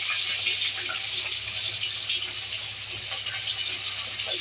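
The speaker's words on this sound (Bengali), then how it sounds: "এবার আলুগুলোকে লাল লাল করে ভেজে নিই।" Potatoes frying in a wok of oil seasoned with panch phoron and green chillies for a Bengali vegetarian chorchori, a steady loud hiss and sizzle running unbroken throughout with no talk.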